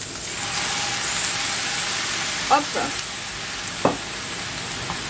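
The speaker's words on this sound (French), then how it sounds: "On va déglacer avec le vin blanc" White wine poured into a hot pan to deglaze it, giving a steady loud sizzle and hiss throughout, with a brief spoken word partway through.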